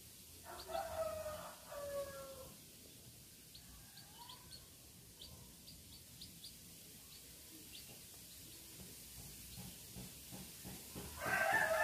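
A mother hen and her five chicks make faint, scattered high peeps over a quiet background, with a few soft clucks near the start and a louder burst of chirping at the end.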